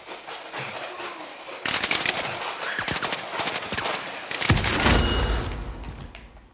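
Automatic gunfire and bursts of shooting in the video game Call of Duty: Modern Warfare, loud sustained rattling with a heavy boom near the end, no talk.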